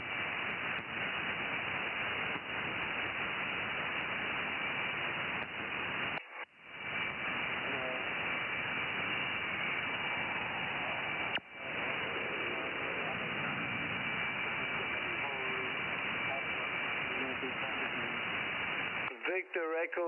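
Shortwave ham radio receiver hiss and static fills the whole stretch, with faint voice transmissions and warbling tones drifting through the noise, briefly cut out twice and ending in a short dropout.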